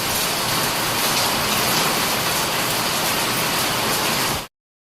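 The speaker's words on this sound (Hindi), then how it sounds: "बहुत ही तेज बारिश हो रही है" Very heavy rain falls in a dense, steady, loud roar that stops abruptly at the end.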